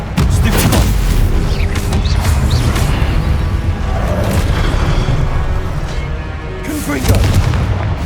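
Fire spell blasts in Hogwarts Legacy boom and crackle loudly through a chaotic duel, heavy thuds and explosive bursts piling up with a voice shouting spell names over them.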